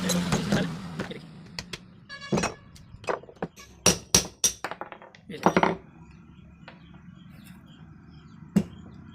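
A flat screwdriver works open a submersible pump motor under repair, producing sharp metallic taps, clicks and scrapes in irregular clusters, close by, with a low hum and a little speech in the background.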